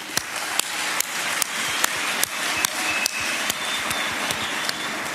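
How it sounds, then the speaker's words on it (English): A rally audience in South Africa's Free State gives a sustained round of applause, a dense crackle of many hands with a few sharper, louder claps standing out at a steady pace. "I want you to give them a round of applause."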